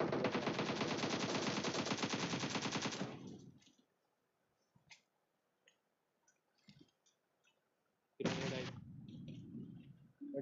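Automatic rifle fire in the mobile battle royale game PUBG Mobile: a loud sustained burst of rapid shots for about three seconds, then scattered faint clicks and quiet game noises, then another short burst followed by softer sounds.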